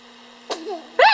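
A baby gives a small sneeze, followed by a brief fussy sound and then a stronger sneezy outburst, close and clear over a quiet room hum.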